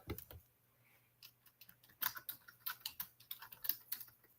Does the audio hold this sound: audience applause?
no